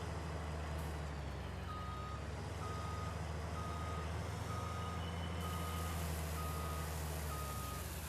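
Steady electronic reversing beeps from a truck in a Farming Simulator 19 harvest on a US farm, sounding at an even rhythm over a constant low engine drone.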